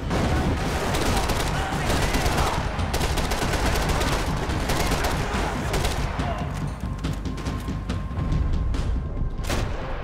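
Rapid gunfire from the video game Max Payne 3 fills the scene, dense overlapping shots and booms in a continuous loud barrage with game sounds underneath.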